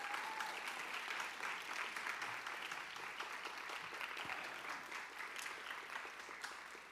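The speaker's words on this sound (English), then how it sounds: "if we can all give a big round of applause just to start for our APAC, our dance students" Sustained audience applause for high school dance students at a fine arts awards ceremony, steady dense clapping that continues evenly throughout with no voices over it.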